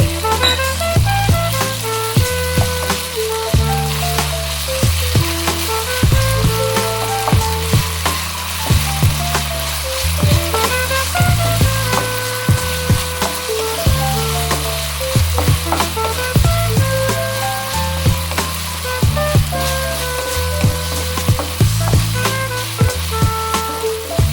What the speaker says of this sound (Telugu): one and half tea spoon ginger garlic paste వేస్తున్నాను ఇది ఒక రెండు నిమిషాలు వేయించుకోవాలి